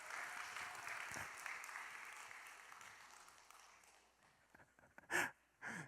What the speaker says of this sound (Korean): 격려와 사랑의 박수 보내겠습니다.